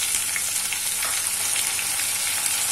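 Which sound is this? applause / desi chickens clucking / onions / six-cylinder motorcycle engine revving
onions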